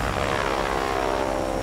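A Corsair fighter plane flying in the World of Warplanes combat game, a steady, loud droning propeller engine sustained without break.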